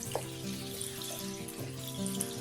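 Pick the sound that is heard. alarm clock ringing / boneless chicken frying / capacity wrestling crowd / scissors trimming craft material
boneless chicken frying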